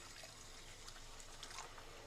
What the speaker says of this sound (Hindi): अब हम इसमें डालेंगे थोड़ा सा कुनकुना पानी